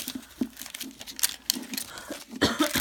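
Plastic toy packaging for an LOL doll is pulled open at the zipper, giving scattered crinkles, rips and rustling taps, close up, with soft voices in the background.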